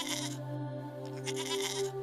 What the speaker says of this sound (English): It learned to bleat.